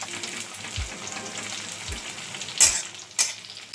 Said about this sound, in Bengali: টমেটোটাকে দিয়ে একটু ভাজবো।